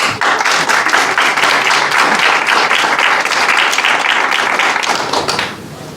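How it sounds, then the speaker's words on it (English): Audience applause at a teaching webinar talk, a dense steady patter of many hands clapping loudly for about five seconds before thinning out at the end. "applause for Camille"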